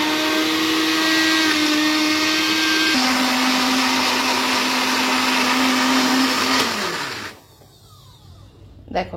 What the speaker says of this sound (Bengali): এটা আমি 11 3 জার পার্সোনাল ব্লেন্ডারটাতেই ব্লেন্ড করে নিচ্ছি